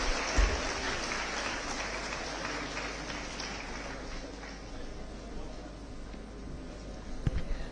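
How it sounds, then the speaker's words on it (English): Audience applause at a live annual event, a steady wash of clapping from a large crowd that holds at an even level throughout without any speech. "A huge round of applause."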